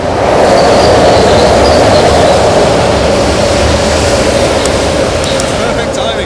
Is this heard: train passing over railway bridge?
yes